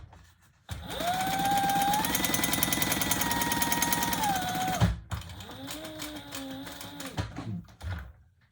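Sewing machine stitching leather for a sling bag: a long steady motor whir with rapid needle chatter, a brief pause, then a second shorter run at lower speed, close and clear.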